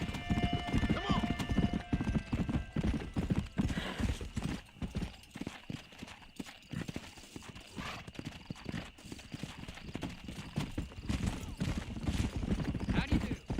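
Rhythmic clip-clop of horse hooves trotting steadily in the video game Red Dead Redemption 2, with scattered voices talking and a brief whinny near the start.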